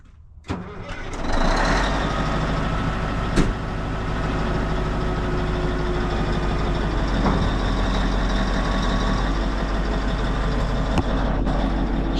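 A CAT 988 wheel loader's big diesel engine cranks, catches and then settles into a loud, steady rumbling idle close by, with a few clanks over the drone.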